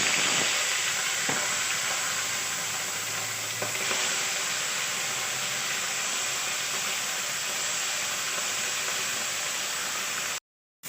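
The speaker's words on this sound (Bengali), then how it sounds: "এরপরে মাছগুলোকে ভেজে নেব" Small fish fry in a little oil in a hot wok, a loud, dense, steady sizzle and hiss with a few faint stirring clicks, continuous and close, with no voices.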